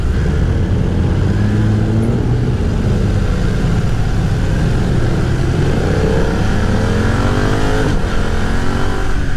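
A 2020 BMW F900R Sport Style roadster motorcycle engine revving and accelerating in rain mode, loud and close throughout, with pitch climbing through gears and wind noise over a steady drone.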